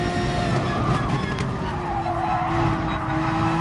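A Group C racing car skids around Suzuka in a racing video game, its engine droning steadily at close range while the tyres scrub and squeal through the corner.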